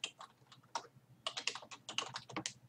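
Keys clatter on a computer keyboard as an email address is typed, a quick irregular run of crisp close taps with short pauses, fairly quiet, with no talking.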